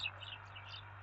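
Birds chirp outdoors in a brief burst, a few thin high tweets near the start followed by fainter calls over a low steady background hum.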